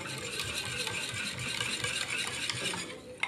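A whisk or spoon stirs a custard mixture of milk, egg yolks, sugar and cornstarch in a bowl, a close, continuous rhythmic scraping and sloshing with no talking.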